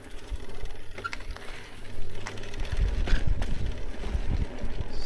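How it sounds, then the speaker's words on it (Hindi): A mountain bike ride over a rough tiled road, with a steady broadband rattle and rumble from the bumpy surface, occasional knocks and wind noise on the chest-mounted camera, continuous and fairly close throughout. "टाइल्ड सड़क है, उसके ऊपर से निकल रहा हूँ मैं। थोड़ी सी शेकी राइड होती है।"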